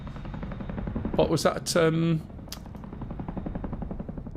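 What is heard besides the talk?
helicopter noise in DCS World flight simulator video game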